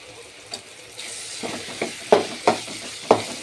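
Chili powder and ginger garlic paste fry in hot oil, giving a soft sizzle broken by several sharp spoon clinks and stirring scrapes that grow louder toward the end.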